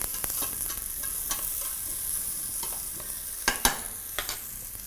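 Potatoes fry in oil in a pan with a steady, soft sizzle, while a utensil scrapes and clicks against the pan as they are stirred.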